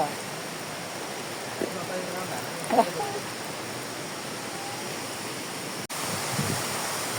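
A waterfall at Galkot Gaighat gives a steady, broadband rush of flowing water that fills the scene, with faint voices and a brief knock partway through.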